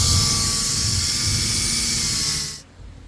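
A pump pushes transfer fluid into an Oasis RV hydronic heater, a loud continuous high-pitched whine with a steady hum that holds evenly and then stops abruptly near the end.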